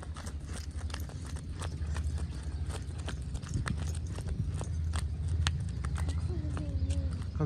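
Hooves of a cart horse clip-clopping at a steady walking rhythm, close and clear over a low road rumble, with faint voices in the background.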